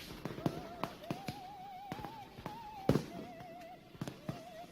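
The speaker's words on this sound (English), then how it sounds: "Well, the fireworks are starting." Fireworks go off in a rapid series of sharp bangs and crackles, some near and loud, others fainter, with a whistling tone rising through them and no speech.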